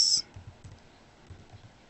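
A computer keyboard being typed on, a few soft, faint keystrokes with gaps, following a brief sharp click at the start.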